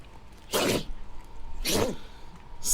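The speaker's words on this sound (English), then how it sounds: "Sneezes." A person sneezes twice, sharp and loud, about a second apart, each burst standing out against quiet background hiss.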